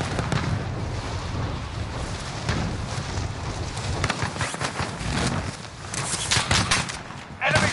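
Rapid gunfire from soldiers in a PS4 shooter game, a dense run of bursts and shots filling the whole stretch with a loud volley near the end, with a voice speaking underneath.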